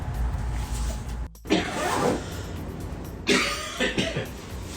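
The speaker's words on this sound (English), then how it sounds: "Got that morning cough." A couple of harsh morning coughs ring out nearby, separated by a brief pause, over a low background hum.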